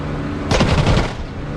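A burst of cannon and machine-gun fire from a Spitfire Mk IX in the DCS flight game cuts in as a rapid, loud rattle lasting about half a second, over a steady engine drone.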